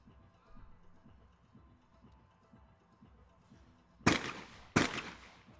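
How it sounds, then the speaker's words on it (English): Two sharp shotgun blasts about half a second apart ring out loud and close during a shooting competition, breaking through a quiet low murmur of background noise. "Perfect shooting here."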